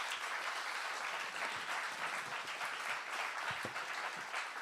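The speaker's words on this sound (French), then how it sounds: "Je crois qu'on peut l'applaudir déjà dans un premier temps." An audience at a talk applauds with steady, dense clapping throughout, moderately loud, with no speech over it.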